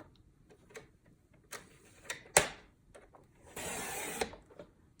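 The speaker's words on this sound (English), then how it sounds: "I'm going to lay it on the trimmer this way. And I'm going to cut it in half." Paper trimmer slicing red card stock in half: light ticks and clicks as the blade is set, a sharp snap, then a short rasping swipe of the cutter through the card, close and quiet.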